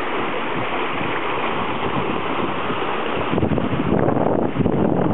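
Rushing water and wind noise as a sailboat on autopilot moves fast at about 8 knots, a steady wash that grows rougher and louder toward the end.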